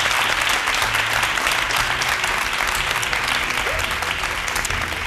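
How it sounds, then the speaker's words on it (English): Audience applause for a contestant on a televised leadership competition show, a steady, dense wash of clapping that stays loud and even for the whole stretch with no talk over it. "Round of applause to leader number 6."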